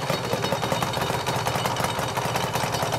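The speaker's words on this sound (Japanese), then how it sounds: "エンジンかけてもらえますか" A 1996 Suzuki RGV250Γ SP motorcycle's two-stroke engine runs steadily nearby, with a rapid buzzing, rattling pulse that stays even for the whole clip.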